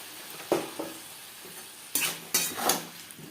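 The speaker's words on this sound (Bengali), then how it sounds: "তিন চার মিনিট আলু ভেজে নেওয়ার পর দিয়ে দিলাম টমেটোর পেস্ট" Potatoes frying in a pan as tomato paste is added, a soft background sizzle broken by a few sharp bursts of hissing and spatula scrapes.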